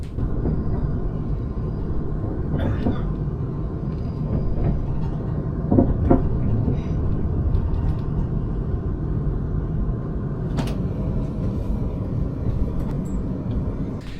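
A loud, continuous rumble and roar of an Avanti West Coast passenger train rushing past nearby at a major railway junction, with rattling and brief metallic squeals over the steady noise.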